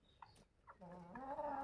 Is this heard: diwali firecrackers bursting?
no